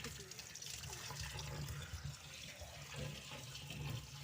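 Water sprays and splashes steadily from a hose or tap, a faint continuous hiss running through the whole stretch.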